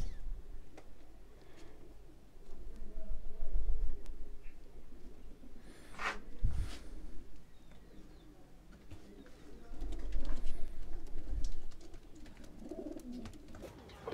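Pigeons in a breeder's loft cooing softly in low, rounded bursts, fairly faint and close, with a few sharp clicks and knocks in between.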